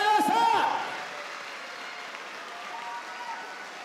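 Audience applause at a kickboxing event, a short burst of clapping from the crowd that fades into a lighter, scattered patter under an announcer's voice and background chatter.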